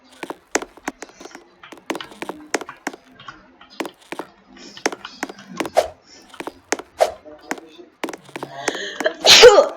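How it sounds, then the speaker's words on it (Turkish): A single sharp sneeze bursts out near the end, after stretches of clicking and brief vocal sounds from a player during a Murder Mystery 2 gaming session. "Bazen hapşırabilirim."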